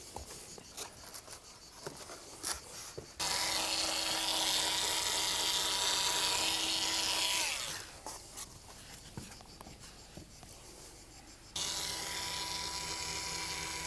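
Electric scissors cutting a ground mat for a Waterair swimming pool installation, two sustained high buzzing motor runs of about four seconds each, separated by quieter handling noises.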